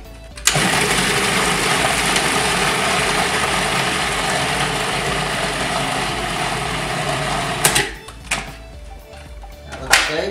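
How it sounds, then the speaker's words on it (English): A Cuisinart food processor whirs loudly and steadily as it blends fish, running continuously for several seconds before cutting off, followed by a few short clunks and rattles. "we're gonna take the fish and we're gonna put it into the Cuisinart. Give it a whirl."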